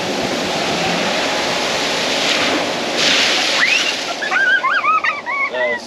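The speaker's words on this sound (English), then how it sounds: "we're going to go full on and get a little bit better view of the water coming in this time" Water surging and washing over a boat's transom at full throttle, a steady loud rushing wash of spray and engine roar, with brief high whistling or squeaky sounds near the end.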